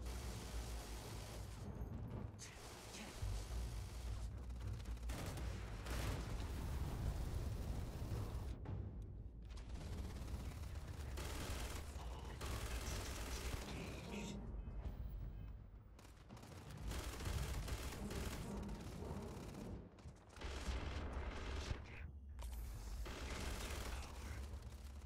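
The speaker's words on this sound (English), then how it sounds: "Who else is shooting at me?" Steady rolling gunfire and booming blasts from a Starfield firefight, a loud, dense barrage running almost without pause, with brief lulls between bursts.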